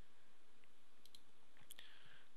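A computer mouse is double-clicked while editing a house photo to replace the sky. Two quick, faint, crisp clicks come close together, followed by another light click, over a quiet background.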